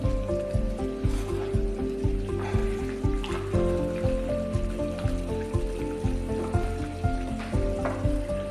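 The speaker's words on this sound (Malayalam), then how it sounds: "വെള്ളം 1/2 കപ്പും കൂടി ഒഴിക്കണം കേട്ടോ" Broken wheat upma sizzling in a pan as more water goes in, a constant frying hiss with regular stirring scrapes throughout, close up with no talking.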